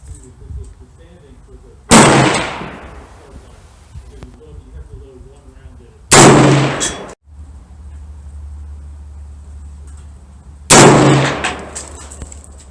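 A 6.5 Creedmoor AR-10 rifle loaded with Federal Non-Typical ammunition fires three loud, sharp shots a few seconds apart outdoors, each followed by a short decaying echo, with quieter sounds between.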